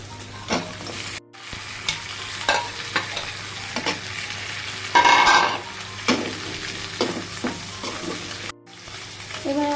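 Loud sizzling of fried fish in a pan with spices, with repeated scraping and stirring strokes throughout, close up and without speech.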